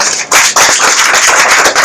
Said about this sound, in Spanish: Dale un fortísimo aplauso, por favor.